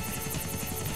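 A helicopter flies in GTA: The Ballad of Gay Tony, its rotor giving a loud, steady rhythmic chop over a dense engine whine, heard close and alone.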